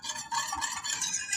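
A whisk stirring ginger and minced garlic into simmering chicken stock, giving a short, close run of brisk wet swishing and liquid scraping with quick rhythmic strokes and no voices.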